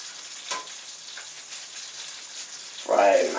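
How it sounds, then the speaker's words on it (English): Pollack fish sizzles in hot oil in a pan, a steady crackling hiss throughout with a few sharper pops, and a voice talks over it near the end. "frying my fish."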